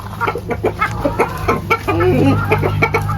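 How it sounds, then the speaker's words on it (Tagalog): Chickens cluck busily close by, with a rooster's louder drawn-out call mixed in among the hens' chatter. "Ito yung tandang."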